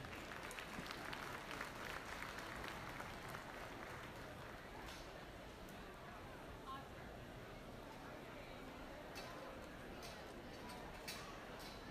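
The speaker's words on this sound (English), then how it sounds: "Let's give him a nice big round of applause." Audience applause at a junior market swine show, a sustained even round of clapping lasting the whole stretch, with crowd murmur and a little talk mixed in.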